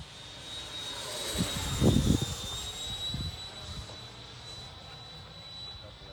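A Freewing 80mm T-33 RC model jet with tip tanks makes a high fan whine as it flies past, swelling to a rushing peak then fading as it moves away, heard from the ground at a flying field.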